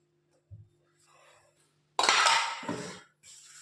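Dishes, pots and utensils being washed in a kitchen: a soft knock, faint scraping, then a loud burst of running water and clattering pots and cutlery, easing to a quieter rinse.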